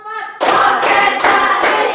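A class of children clapping hands together in unison, a few quick bursts of close, loud claps following a short spoken count.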